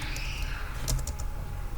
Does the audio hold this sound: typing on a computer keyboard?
yes